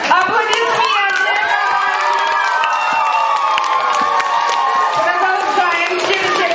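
A crowd of children and adults cheering and shouting for camp counselors at a summer camp initiation, loud sustained whoops and scattered clapping filling the whole stretch, with voices talking through it.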